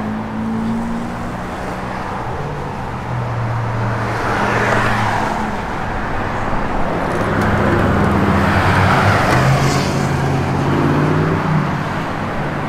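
A 1986 Oldsmobile Cutlass Supreme with Flowmaster-style aftermarket mufflers and chrome tips rumbles with a deep exhaust note that rises in two swells as the engine is revved, loud and close.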